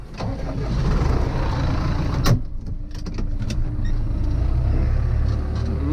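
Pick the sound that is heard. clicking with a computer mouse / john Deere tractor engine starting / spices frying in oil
john Deere tractor engine starting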